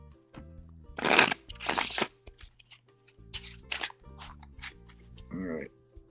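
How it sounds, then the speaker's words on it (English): Deck of cards being shuffled and then deep-cut, with two loud riffling bursts up close, then quieter shuffles and a final rustle, while someone talks throughout. "Let me shuffle it one more time."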